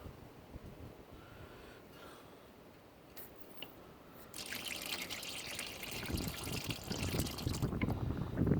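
Hydraulic transmission fluid drains from a John Deere 1025R/1023E compact tractor into a pan, a steady close trickle and splatter that grows louder and fuller toward the end, with no talk over it.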